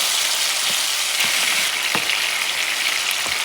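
Sea bass sautéing in coconut oil in a pan gives a loud, steady hiss of frying, broken by a few soft clicks and crackles and by occasional spatters, with no talking.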